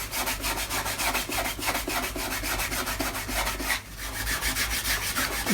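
A polishing cloth rubs over a varnished violin in quick, regular back-and-forth strokes, a close, dry swishing rhythm with a brief pause partway through.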